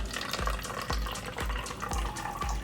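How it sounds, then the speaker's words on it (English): Ice water poured into a cup makes a steady splashing, trickling stream with small regular clinks, close and moderately loud, with no talking. "This is ice water, which we'll be pouring into here."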